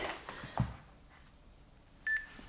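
A workout interval timer beeps as it starts: a short electronic tone early on, then a sharper steady beep near the end, heard alone in a quiet room.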